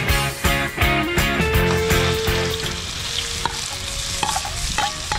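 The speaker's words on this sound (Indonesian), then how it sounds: "jangan lupa selalu goreng belut terlebih dahulu jika ingin mengolahnya menjadi makanan lain" Eel deep-frying in a pan of oil, a loud, dense, continuous sizzle close by, with repeated stirring clatter from a utensil scraping the pan and no voices.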